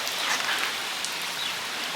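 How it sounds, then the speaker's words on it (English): Water mister system spraying inside a walk-in bird aviary, a steady broadband hiss like fine rain that stays even and continuous throughout, fairly close and without any voices. "you can see the mister system soaking the poop in here"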